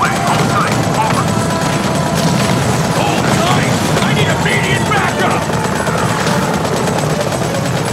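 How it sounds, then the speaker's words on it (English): A helicopter in the video game Modern Combat 5 thrums loudly and continuously amid bursts of gunfire and scattered voices. "there is absolutely no one driving the helicopter"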